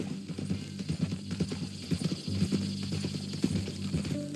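Horse hooves clip-clop at a steady walking rhythm in Red Dead Redemption 2, close and fairly loud, with a faint mechanical creak underneath.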